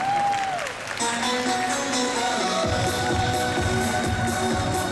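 An audience applauds a singer at a Celebration 2010 concert, a dense, steady wash of clapping that holds loud throughout, with musical tones ringing beneath the start.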